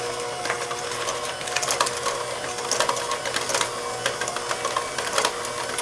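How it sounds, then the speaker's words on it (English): An electric mixer working cookie dough as dry ingredients go in, producing a continuous whirring hum with irregular crumbly rattles and knocks, moderately loud and without voices. "Now let's use the electric mixer, add in our dry ingredients, add them slow"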